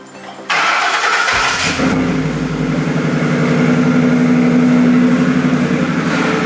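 A truck engine cranks for about a second, then catches and roars into a loud, close, slightly rough idle that holds steady to the end.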